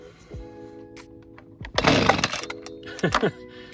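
Husqvarna 125B leaf blower being purged and started with an aftermarket carburetor, with a few pull-cord whirs and then a short sputtering burst as the two-stroke engine catches, heard up close.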